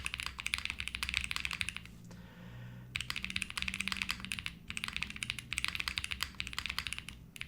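Steady typing on a mechanical keyboard fitted with an FR4 plate, with dense rapid keystrokes broken by a brief pause near two seconds before resuming, close and fairly loud with a slightly plasticky clack.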